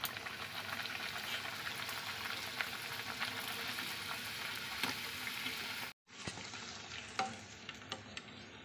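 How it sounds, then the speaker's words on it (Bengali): Luchi, a puffed fried bread, frying in hot oil, a steady close sizzle that suddenly cuts out near the six-second mark, then resumes more quietly with a few sharp pops and crackles. "এখন এক এক করে লুচিগুলোকে ছেড়ে দেবো।"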